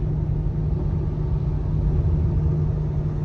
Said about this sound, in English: I can hear that vibration. Sounds like a little helicopter.